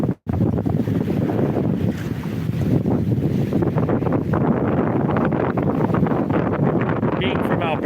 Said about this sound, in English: It's windier this weekend for sure. A lot windier.